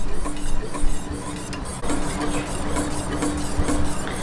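Caramel for leche flan is stirred in a pan off the heat, making a steady scraping, rasping rub against the metal with a few soft clinks, loud and close with no talk.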